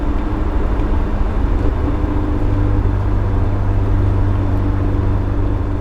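A BMW E30 M3 with 92,000 miles cruises at 58 mph, a steady loud droning engine and road rumble heard from inside the cabin, unbroken for the whole stretch with no talk.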